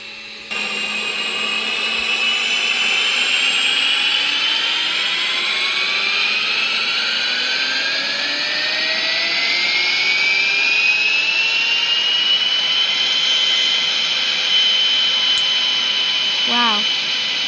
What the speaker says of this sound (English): Okay, time for takeoff.